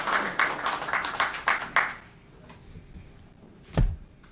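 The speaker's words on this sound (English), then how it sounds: "Let's give her a round of applause." Audience applause at a business conference for Liberia: a burst of clapping for about two seconds that fades into quieter room noise, then a single low thump near the end.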